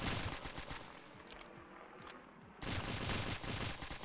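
Rapid gunfire in the multiplayer video game Stick Warfare Blood Strike, aimed at a juggernaut: dense bursts of shots, loud and continuous, easing briefly midway before a fresh burst kicks in.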